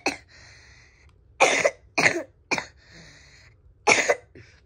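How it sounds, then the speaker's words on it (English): Several short, sharp coughs close by, a single one followed by a cluster of three and another pair, with a faint hum between them. "What, did someone cough?"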